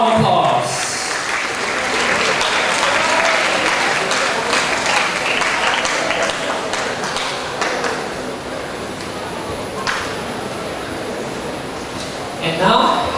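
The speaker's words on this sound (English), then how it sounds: "give Mr. Adam a round of applause" An audience at a school graduation ceremony gives sustained applause, a broad, even roar of many clapping hands that holds steady before briefly thinning and swelling again near the end.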